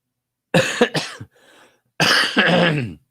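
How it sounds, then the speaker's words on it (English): A few harsh, raspy smoker's coughs in two bursts separated by a brief wheezy breath, close and fairly loud. "Smoker's cough."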